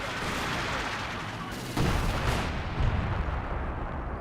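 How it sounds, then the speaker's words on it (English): Artillery barrage in the video game Company of Heroes 2, a dense rumbling roar of distant shelling that swells into heavier booming impacts partway through, continuous and fairly loud. "now got some sort of artillery barrage being brought him in"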